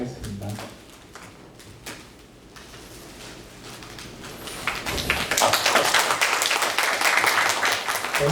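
Audience applause closing a lecture at an academic award ceremony, quiet scattered clapping and talk at first, then swelling into loud, dense applause over the second half.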